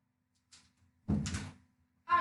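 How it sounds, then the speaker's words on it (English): A bedroom door swings shut with a soft scrape and a dull thunk, close and quiet, followed by a brief pause and then another short sound. "my door's open. Give me a second."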